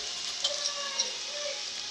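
A cumin and mustard seed tempering crackles in hot oil with finely chopped garlic and coriander, a steady close sizzle with a few faint pops and no voices.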